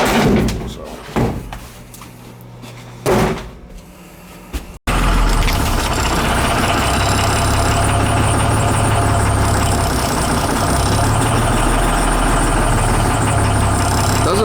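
A large truck engine that burns oil idles steadily with a deep, continuous rumble, preceded by a few seconds of quieter activity and a sharp door-like thud.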